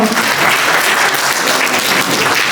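Audience applauding loudly and steadily for three young sellers at an evening community event, a dense, sustained wash of clapping with no talk over it.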